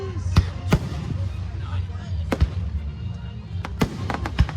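Fireworks at an Arthur, Illinois show burst in sharp, loud bangs scattered irregularly over a steady crowd rumble, with people talking nearby.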